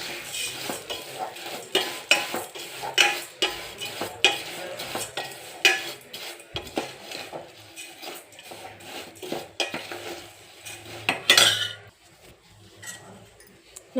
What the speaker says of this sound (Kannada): ಸ್ವಲ್ಪ ಲೈಟ್ ಗೋಲ್ಡನ್ ಬ್ರೌನ್ ಕಲರ್